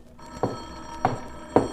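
A telephone bell rings in three short, evenly spaced bursts, moderately loud over a quiet background hum.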